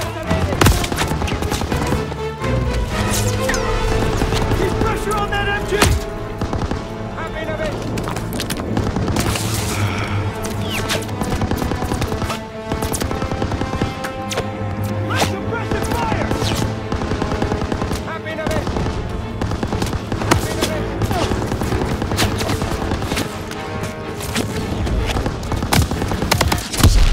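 Sustained machine gun fire in a Call of Duty WW2 battle, loud bursts and rapid rattling gunfire layered with booms and distant shots, with shouted voices breaking through the din throughout.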